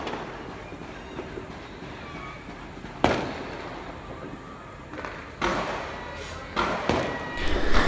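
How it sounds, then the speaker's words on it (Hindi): Firecrackers burst at midnight during Pakistan's Independence Day celebrations on 14 August 2020, with several loud, sharp cracks spaced a second or two apart over a constant outdoor hiss, growing denser toward the end. "यहाँ पे जी फायरिंग की आवाज़ें, पटाखे"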